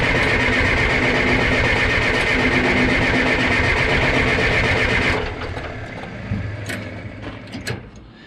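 A John Deere 480B diesel engine cranks loudly and close for about five seconds in a fast, rhythmic mechanical whir, then stops, leaving faint clicks and clatter.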